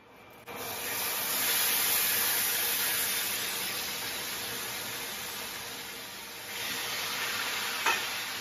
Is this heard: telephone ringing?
no